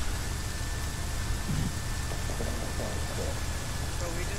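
Steady rain falls in a military squad video game, a constant loud hiss running through the whole stretch, with muffled voices faintly underneath.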